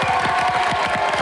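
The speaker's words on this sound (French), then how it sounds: "applaudissements pour les Bleus" Studio audience at a French television game show breaks into steady applause and cheering for a contestant team, a dense, continuous wash of clapping with no talk over it.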